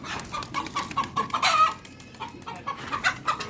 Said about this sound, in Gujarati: આ જોઈ લ્યો બે કુકડા આપણા